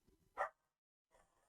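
A single sharp bark from Molly, a pet dog, faint and heard from a distance in a quiet room, followed by a short pause and soft rustling.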